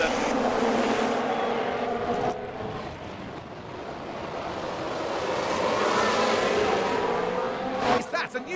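Formula 1 cars in F1 Manager 22 roar away from the race start as a loud, dense wash of engine noise that swells and fades, with talking over it.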